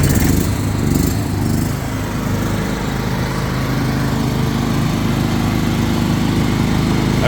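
A Hyundai HX7600DX home backup generator runs with a steady, loud engine drone and dense broadband mechanical noise, close by and unchanging throughout.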